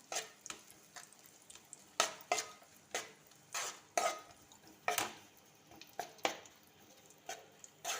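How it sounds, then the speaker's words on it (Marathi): Jaggery being roasted and stirred in a pan for churma laddoos, with a series of quiet, irregular spoon scrapes and taps against the metal over a faint sizzle. "थोडा परतून घ्यायचा आहे आपल्याला गूळ."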